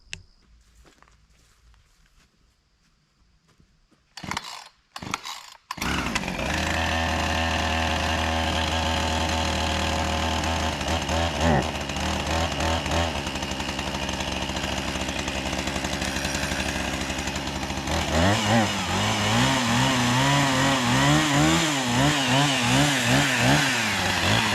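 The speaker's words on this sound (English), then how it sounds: "chainsaw in hand" In a wood yard in fall, a gasoline chainsaw starts with a few quick pulls, then runs loud and close, steady at first and later revving up and down as it cuts through wood.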